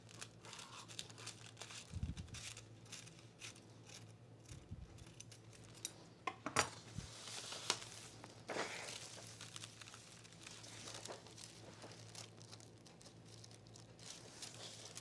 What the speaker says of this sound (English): I'm going to cut this line here